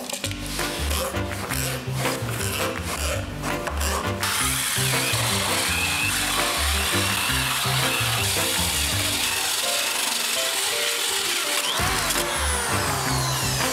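Holes are drilled into a wooden frame for a small DIY bass trap, a close, loud power tool whirring and grinding with shifting pitch and a burst of rough rubbing early on.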